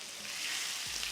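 Curry leaves hit hot oil for a tempering after mustard seeds, a short, close burst of bright sizzling hiss that swells slightly toward the end.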